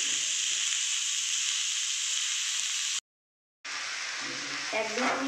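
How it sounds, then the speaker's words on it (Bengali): Vegetarian cabbage frying on a low gas flame in a pan gives a bright steady hiss that cuts out briefly and then returns, with some stirring. "গ্যাসের ফ্লেমটা আমি কম করে দিলাম, দিয়ে এবার ভাজা ভাজা হোক সবজিটা"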